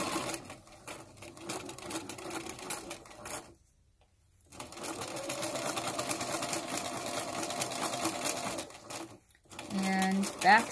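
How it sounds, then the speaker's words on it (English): A sewing machine stitches along the edge of a furry fabric leg for a plush dragon, running steadily in two long bursts separated by a short pause, close and fairly loud. "I'm just going to sew right up there."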